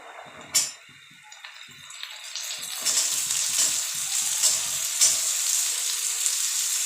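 Green peas go into vegetables frying for fried rice, and the hot oil rises into a steady, loud sizzle after a sharp clatter near the start, with faint stirring beneath.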